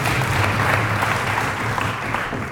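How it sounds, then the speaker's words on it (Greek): A studio audience on the Greek game show Wheel of Fortune claps in loud, sustained, dense applause that stays steady and close throughout. "Και βεβαίως χειροκροτήστε την Νάνση"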